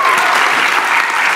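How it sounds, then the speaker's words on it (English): A youth group applauds Luke with loud, dense clapping that holds at full strength from start to finish of the short burst. "let's give Luke a round of applause"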